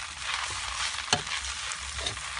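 Noodles for Lao khua mi rat na sizzle and crackle in hot oil as they are stir-fried, a steady close frying hiss with occasional scraping stir strokes.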